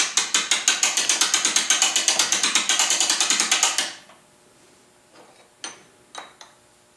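Rapid regular ratchet clicking from an Ollie Baker mainspring winder as the spring is wound, steady and close for about four seconds, then stopping, followed by a few faint separate clicks.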